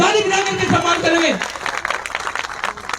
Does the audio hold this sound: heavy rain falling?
no